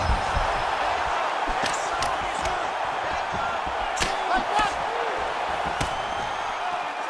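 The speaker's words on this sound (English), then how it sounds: "you hear the crowd react every time they come together" In the video game EA Sports UFC 5, a crowd murmurs and roars steadily in the background of a fight, with sharp thuds and slams of strikes cutting through and occasional voices rising above the noise.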